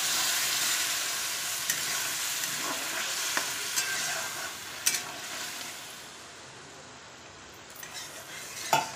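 Button mushrooms fry with spices in a pan, giving a dense, continuous sizzle with occasional clicks and scrapes of a utensil stirring against the metal.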